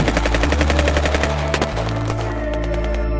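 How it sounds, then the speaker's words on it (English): Rapid AR rifle gunfire bursts, loud and dense, layered with a heavy bass-driven rap beat throughout; no talking. "let that damn AR sound"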